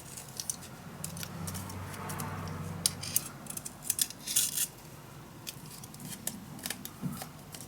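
Scissors cut down paper for a steampunk dos-a-dos mini album, soft crisp snips and rustling close by, with a brief flurry of sharper cuts midway and no talking.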